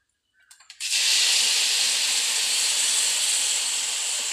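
Spices in a hot pan for mango pickle erupt into a sudden loud, steady sizzling hiss that starts after a few soft taps and carries on evenly, close and alone.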